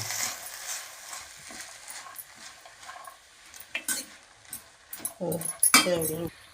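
Chopped sprouted spinach is sautéed in a pan, with spatula scrapes and clinks that grow busier and louder toward the end over a faint, low sizzle.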